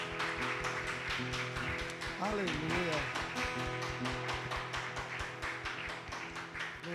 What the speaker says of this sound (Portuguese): Aplauda o Senhor, vai.